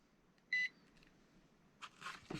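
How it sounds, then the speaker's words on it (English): A Nokta Makro metal detector gives a single short electronic beep when its sensitivity is adjusted, clear and alone against a quiet background. Faint handling clicks follow. "1 beep is 1 sensitivity, 2, 3, 4, and a solid beep is maximum sensitivity."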